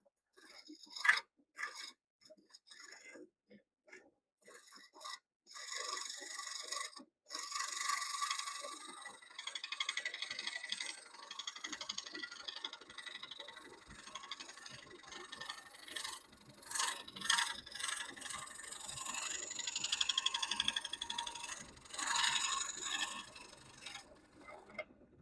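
Wood lathe spinning at a slow 700 RPM while a tool cuts a live edge bowl, giving a steady scraping, rasping hiss broken by brief pauses as the tool lifts, close and continuous with no talk.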